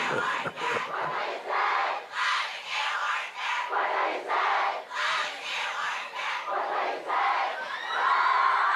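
High school football crowd of Warrior fans at a home game, loud sustained cheering and shouting in repeated surges, with no talk over it.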